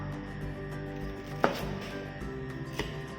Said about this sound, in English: Don't cut the peppers very small, because we will be grilling it